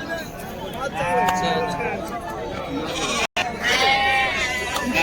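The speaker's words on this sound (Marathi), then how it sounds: "मित्रांनो पाहू शकता ह्या अशा क्वालिटीमध्ये अजून आपल्याला मेंढ्या पाहायला मिळतील" Sheep bleat repeatedly at a busy rural livestock market, several loud wavering calls close by and overlapping, with crowd chatter and voices running underneath.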